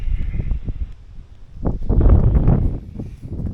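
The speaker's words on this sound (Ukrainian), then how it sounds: "Знову вітер починається." Gusty wind buffets the microphone in low, rumbling surges that rise and fall, loudest in the middle, during evening catfish fishing as rain begins.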